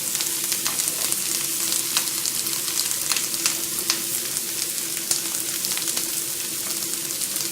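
Shallots and garlic sizzle steadily in a hot pan, a dense, even crackle with scattered sharper pops, close and continuous with no talking.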